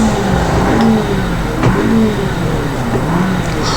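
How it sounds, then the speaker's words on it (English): A Nissan Skyline R33 engine in BeamNG.drive revs in short rising and falling pulls, loud and close, with a thin exhaust note and no talking. "So first we're going to do like a little rev."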